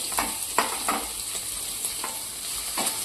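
Onion and green chili sautéing in a pan, a steady close sizzle broken by regular scraping strokes of a spoon stirring every half second or so.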